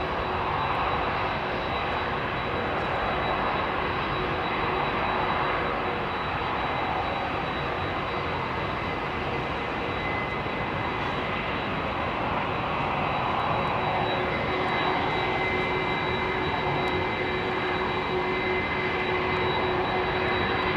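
Airliner jet engines idle steadily at London Heathrow Airport, a loud continuous broadband roar with faint whining tones running unbroken throughout, close by and with no voices.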